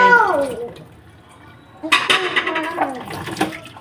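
Tap water runs and splashes during dishwashing at home, a soft flow that swells into a louder rushing gush halfway through, with a voice chattering over it.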